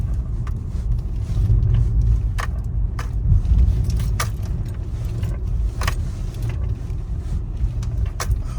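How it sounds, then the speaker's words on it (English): Low rumbling drone from a worn front wheel bearing on a BMW E46 car while driving, a steady hum heard from inside the cabin with occasional rattles and clicks over it, no talking. "little bit of a noisy wheel bearing"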